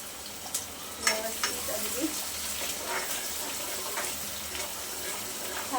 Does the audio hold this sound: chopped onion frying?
yes